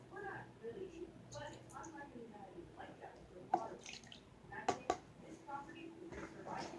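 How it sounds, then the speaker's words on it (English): Clorox water poured into glue for homemade slime, soft splashing and dripping with a few sharper drops, faint and close, while a person talks over it. "Now we're gonna put in my Clorox water"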